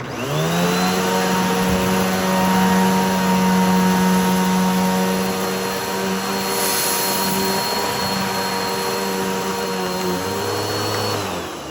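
A Simplicity S20EZM snow blower running over salt: a loud, steady engine drone with a strong tonal hum that holds throughout, the pitch shifting slightly near the end.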